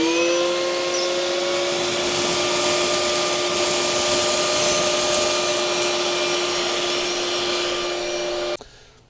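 Makita 18V and 40V cordless vacuums suck up piles of sawdust, giving a loud, steady motor whine with a bright airflow hiss that holds evenly before cutting off abruptly near the end.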